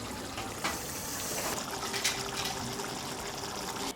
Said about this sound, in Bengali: এবার জলটাকে দিয়ে দিলাম।